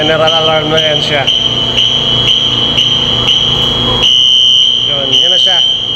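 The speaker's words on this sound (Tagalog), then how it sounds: "Magge-general alarm na yan siya." A fire alarm sounds during a pre-action sprinkler system test, a loud continuous high electronic tone that carries on steadily while someone talks over it nearby.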